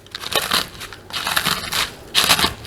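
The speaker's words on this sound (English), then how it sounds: "it'd be a lot easier to crush them right in a sandwich bag" Crackers being crushed inside a sandwich bag for a cracker crust, heard as three loud, close bursts of crunching and crackling with short pauses between them.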